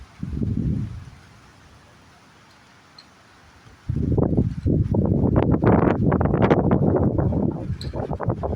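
Strong wind gusting through trees outdoors, starting with a brief rush, then a quiet lull, then a loud sustained roar of buffeting wind noise for the second half.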